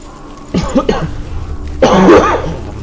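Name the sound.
cough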